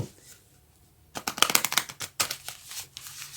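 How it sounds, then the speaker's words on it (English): After a quiet moment, tarot cards are shuffled up close in a quick flurry of papery riffles and snaps, then another short burst. "I wanted to take these cards and shuffle them in front of you"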